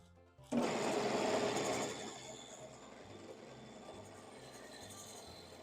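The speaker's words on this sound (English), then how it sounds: "I will just do some shear scraping with my spindle gouge" Shear scraping on a lathe: a spindle gouge is held against the spinning bowl's inside bottom, giving a loud, steady rasping hiss that lasts about a second and a half, then eases into the lathe's quieter hum with a faint rhythmic knock.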